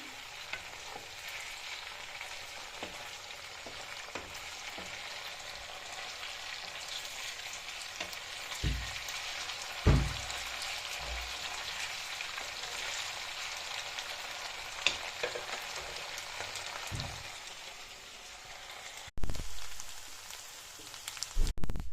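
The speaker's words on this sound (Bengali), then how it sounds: "চিকেনের পিসগুলোকে দিয়ে দিলাম ভাজার জন্য।" Chicken pieces fry in hot oil for a homemade, restaurant-style chili chicken: a steady, dense sizzle and crackle runs throughout, broken by a few louder clatters and thumps from the pan.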